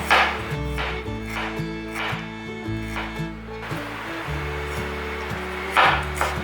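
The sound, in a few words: knife slicing ginger on a cutting board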